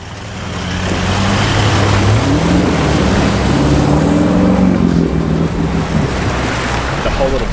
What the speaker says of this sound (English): A whole lot of water comes through the passenger side dash here down onto the footwell